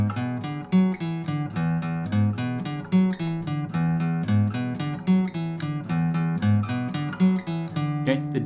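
Guitar playing a song riff in the original, trickier fingering, a steady repeating run of plucked notes, close and alone with no talking.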